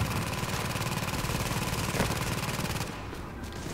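Sustained automatic gunfire from the video game The Division rattles on continuously and loudly over a low droning background, easing slightly near the end, with no voices.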